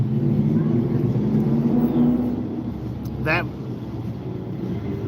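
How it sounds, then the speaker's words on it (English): A car drives past during a one-wheel ride on El Paso, Texas streets, a low steady road rumble mixed with wind that swells and fades, with a brief high squeal near the end. "The one that you just heard, that was that car."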